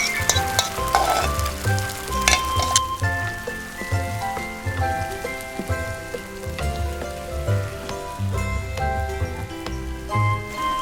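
Beaten egg hits an oiled pan while tamagoyaki is being made, giving a lively, crackling sizzle that keeps spitting and popping through the whole stretch, with no speech over it.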